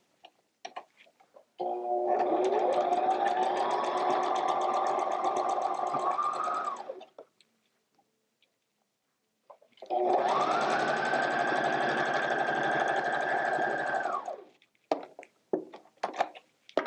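A sewing machine stitching a quilt seam in improv quilting runs in two steady whirring stretches of several seconds each, separated by a short silence, with small clicks at the start and end.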